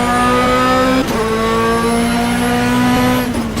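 A GT2 race car engine in the rFactor GT2 racing game on the Spa circuit, a loud sustained engine tone that drops in pitch with a downshift around the one-second mark, then holds a steady drone before another brief break near the end.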